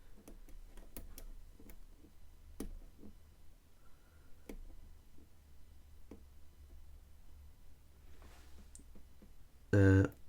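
Faint, sparse clicks from the pins of a 5-pin lock being picked, a scatter of soft ticks spread across a quiet background, ending with a brief loud burst.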